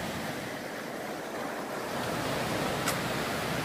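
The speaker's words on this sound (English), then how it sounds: "It's the Nantahala River. Runs right through the middle of everything here." The Nantahala River rushes past near a footbridge on the Appalachian Trail, producing a constant, full roar of flowing water that swells slightly partway through.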